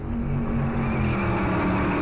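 Stock race cars thunder around Darlington Raceway during the Southern 500, a loud, constant engine roar with overlapping droning tones as cars pass close, no talking heard.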